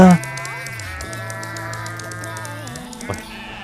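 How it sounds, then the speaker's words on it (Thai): Sheep bleating in a mobile WorldBox game after ten thousand sheep are spawned, a dense layered chorus of overlapping game bleats that holds steady throughout with a brief louder bleat near the end. "เสกแกะมาแล้วกันหนึ่งหมื่นตัว"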